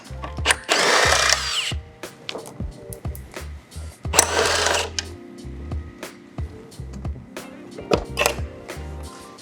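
A cordless power tool whirs in two loud bursts while removing bolts from the plastic body panel of an ES5 electric scooter, with clicks and handling clatter between and after, close up, no talking.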